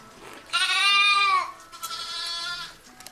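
An orphaned pet lamb bleats while being bottle fed on a sheep farm, one long loud bleat followed by a softer second bleat, close by with no talking.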